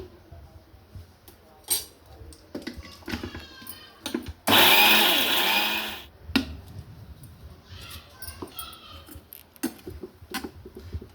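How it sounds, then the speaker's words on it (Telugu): A kitchen mixer grinder blending soaked lentils runs in one loud, dense burst of about a second and a half between scattered clinks and knocks of utensils. "ఇలా ఒకసారి మధ్యలో కలుపుకుంటూ మిక్సీ ఆడేసుకుందాం"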